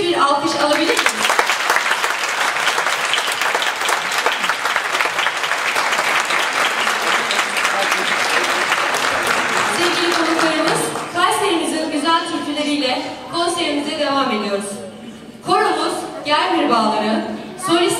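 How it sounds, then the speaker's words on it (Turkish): Strong audience applause for a Turkish folk music choir and saz ensemble at a concert, loud and dense for about ten seconds, then fading as someone speaks over the last claps. "güçlü bir alkış alabilir miyiz?"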